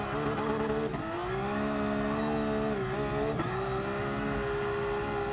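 Race car in Gran Turismo Sport drifting on the Nordschleife, a loud sustained engine whine that dips and climbs again with each upshift, several shifts in a row, no voices.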